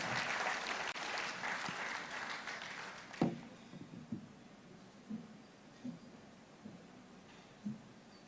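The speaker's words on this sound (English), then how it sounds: "Please, let's give him a round of applause." An audience at an investiture ceremony gives a round of applause for the Bank of Industry chairman, dense clapping for about three seconds that fades into scattered, fainter claps and isolated taps.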